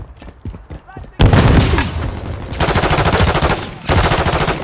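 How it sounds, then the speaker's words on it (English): Rapid assault rifle fire from a Kastov-762 in Call of Duty MW3 team deathmatch on the Tanked map erupts after a brief quiet, pounding in dense close bursts with a short pause before the last burst, with faint speech at the start. "Taking effective fire."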